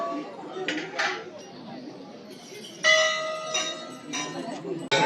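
Hanging bells ring at the crowded Golu Devta temple in Ghorakhal, Nainital, with several bright metallic clangs and overlapping peals over a steady murmur of the crowd.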